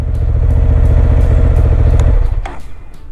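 A Honda CB750 Hornet with its stock exhaust revs loudly close up, a steady throbbing engine note held for about two seconds before cutting off and dropping back toward idle.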